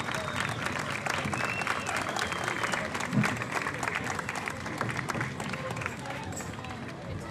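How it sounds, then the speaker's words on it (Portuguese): Sustained audience applause at an outdoor folk-dance festival in Loures, honouring the Casa do Vinho group; dense, steady clapping from a crowd throughout, with crowd murmur mixed in. "estas palmas para a Casa do Vinho são bem merecidas"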